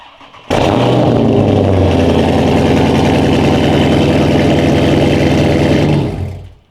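A Dodge Scat Pack or Hellcat V8 fires up abruptly and settles into a loud, steady, rumbling idle close by, holding for about five seconds before cutting off.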